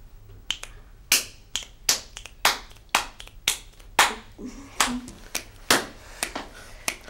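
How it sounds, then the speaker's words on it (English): Sharp, loud finger snaps repeat about a dozen times at a quick, slightly uneven rhythm, each a crisp crack with a short decay and no talking between them. "I can kind of snap my fingers in a really cool way"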